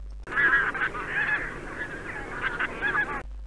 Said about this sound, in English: Bean goose.